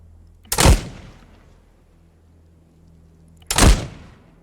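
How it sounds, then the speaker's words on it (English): Two heavy booming blasts from artillery shelling in the Broken Assault video game, each a sharp loud impact with a rumbling decay, spaced about three seconds apart over a quiet low hum. "Let's get in the arty computer here. Let's start shelling."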